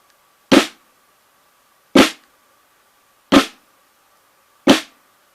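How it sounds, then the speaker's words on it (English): Four sharp drum flams, each a quick double stroke blurred into one crack, evenly spaced about a second and a half apart with silence between. "You're hitting the drum twice, using both sticks, the flam."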